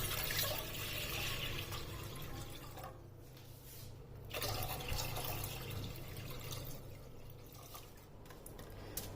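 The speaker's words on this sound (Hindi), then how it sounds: "2 लीटर पानी डाल देना है।" Two litres of water pour steadily into a pan set over a gas flame while a plum and tamarind sharbat is being made, a continuous close splashing rush with no talk.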